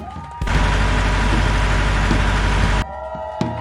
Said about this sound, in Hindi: चंद लम्हों बाद बस दोबारा स्टार्ट हो जाती है।